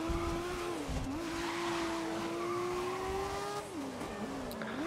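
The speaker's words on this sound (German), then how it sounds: "Gas geben" A race car in GRID (2019) revs and accelerates, its engine note climbing and shifting through gears with brief dips, loud and close, with a hint of tire squeal and no talk.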